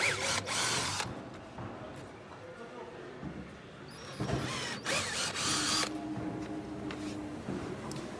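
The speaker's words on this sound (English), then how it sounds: "So I'm just going to change the drill bit." A drill's chuck ratchets and clicks while its bit is changed during fitting of a MotorScrubber Force onto a Tennant T300, with short mechanical bursts and handling noise under a man's nearby speech.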